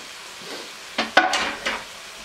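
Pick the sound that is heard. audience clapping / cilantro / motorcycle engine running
cilantro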